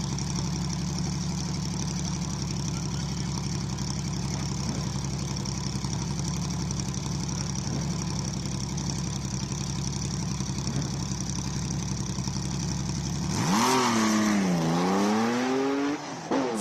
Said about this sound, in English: Next, another 911 air-cooled Porsche attacks the Speed Classic Cape Town.